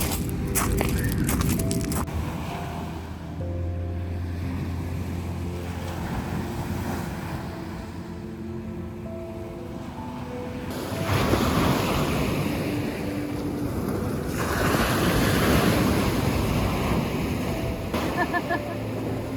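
Sea waves wash onto an Italian beach in steady, loud surges, with gusts of wind buffeting the microphone and swells that rise noticeably toward the end.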